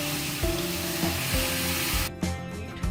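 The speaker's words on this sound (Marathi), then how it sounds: "उकळून ठेवलेलं पाणी टाका" Boiled water poured into roasting semolina for oil-free upma bursts into a loud, broad hiss of sizzling steam, dropping away sharply near the end.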